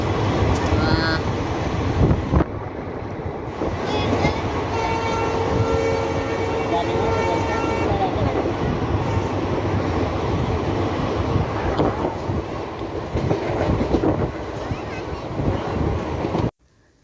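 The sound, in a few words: train at railway station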